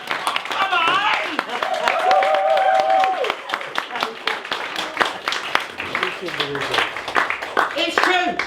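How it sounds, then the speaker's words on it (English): An audience claps for the signs at a wellbeing techniques masterclass, with scattered sharp hand claps running throughout beneath a loud, excited voice that keeps talking over them. "Round of applause for the freaking signs!"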